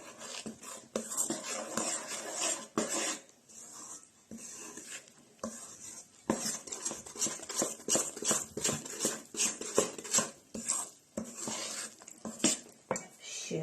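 A bowl of sifted flour being stirred into dough with a utensil, giving steady scraping and clinking against the bowl at close range, continuous with brief pauses.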